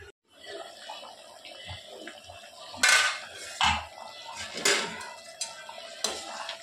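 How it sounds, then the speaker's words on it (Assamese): A lid set down on a cooking pot of simmering chana dal, with a few sharp metallic clanks and scrapes close by over a quiet bubbling background. "এতিয়া আকৌ ঢাকন মাৰি দিম।"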